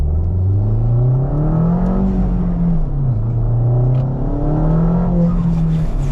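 Ford Fiesta ST200 with a Revo Stage 2 tune accelerating hard, the engine droning and rising in pitch through several gears with brief dips at each shift, loud and close from inside the cabin, no talking.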